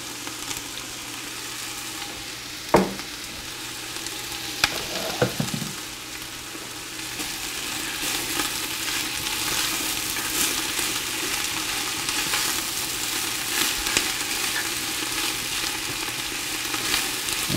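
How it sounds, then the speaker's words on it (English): Celery and onion frying in a soup pot, a steady soft sizzle running throughout with a few brief clinks and knocks near the start, no talking. "we're just gonna let this cook down a little bit"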